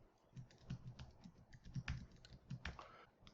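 Rapid, uneven keystrokes on a computer keyboard as text is typed, a steady run of light clicks alone with no talking.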